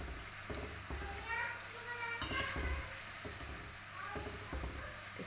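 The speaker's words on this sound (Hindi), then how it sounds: "तब तक उधर और फ्राई हो रही है।" Namkin khajur snacks fry in hot oil on a low flame, a soft continuous bubbling sizzle with intermittent knocks and clatter, fairly faint, with voices in the background.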